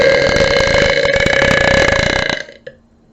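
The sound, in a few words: burp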